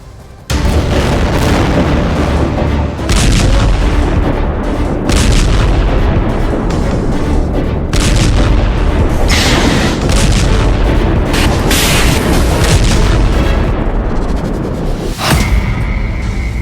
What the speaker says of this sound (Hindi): लेबनान बॉर्डर पर तेज हुई लड़ाई। हिजबुल्लाह ने कई मिसाइल दागी।